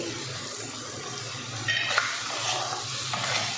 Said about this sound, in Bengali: এবার আমি দিয়ে দেবো ভেজে রাখা পটল